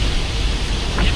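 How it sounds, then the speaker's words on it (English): Heavy rain pours during Hurricane Milton, a loud, steady, hissing wash of water with no break across the moment. "Rain on here."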